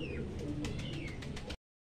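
Pigeons in a loft coo steadily in a low rumble, with scattered chirps and wing or foot clicks near the mic, and the sound cuts off abruptly partway through.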